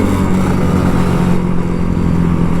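A Kawasaki Ninja RR 150 two-stroke motorcycle engine runs loud and close, a continuous raspy buzzing drone with a steady rattle throughout.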